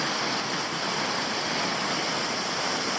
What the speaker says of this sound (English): It's a very small waterfall.